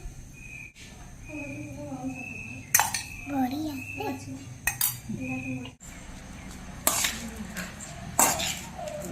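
A metal spoon stirs cooked rice mixed with spice powder in a vessel, giving scattered clinks and scrapes against the pot, while a voice chatters nearby in the background.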